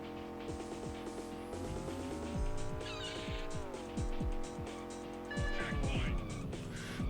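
Racing car engine from Rush 2 Extreme Racing USA on the N64, a steady revving drone with rising and falling pitch, punctuated by repeated tire squeals and skids, loud and continuous throughout.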